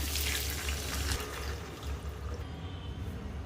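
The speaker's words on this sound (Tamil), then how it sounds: "இப்போ வெங்காயம், தக்காளி வேக வச்சு தண்ணியை சேர்த்துக்கிறேங்க." Water poured into a pan of simmering sambar with softened onion and tomato, a steady broadband splashing rush that starts loud and close, then settles into a softer trickle with no voices.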